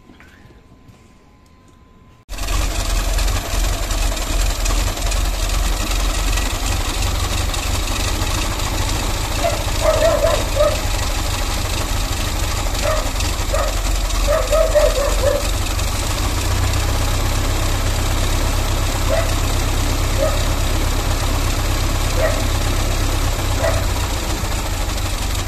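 A Gurgel car engine idles steadily, a continuous low rumble with a faint intermittent ticking, suspected of running rough from a faulty idle solenoid, heard close and alone after a quiet start.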